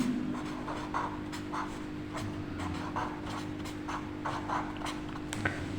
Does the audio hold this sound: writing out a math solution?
yes